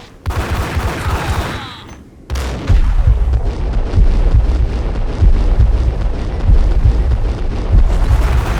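Booming, rumbling blast and continuing heavy detonations from a bomb explosion in the Max Payne video game, loud and sustained with a low roar after a short silent gap.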